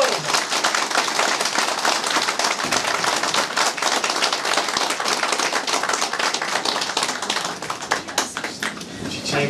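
Audience clapping at a Turkish CHP political candidacy event, dense and loud, sustained for several seconds before tapering off, with voices under it.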